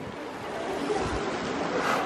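Ocean surf rolls and washes steadily along a coastline, a broad continuous rush of water with wind buffeting the microphone, swelling slightly toward the end.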